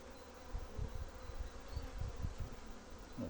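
Close, low buzzing of many old worker honeybees and drones inside a hive, a continuous droning hum with individual wingbeats swelling in and out, quiet and without voices.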